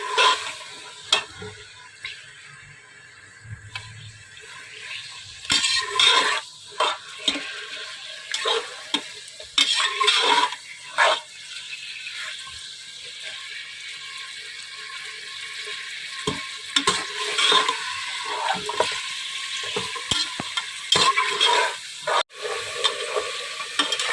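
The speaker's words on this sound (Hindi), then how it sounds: "गोश्त को मैं फ्राई कर लेती हूँ करीबन वाइट से पिंक" Meat sizzles in a pot in uneven bursts while frying from white to pink for palak gosht, with scraping and clinking as it is stirred, dropping quieter between stirs.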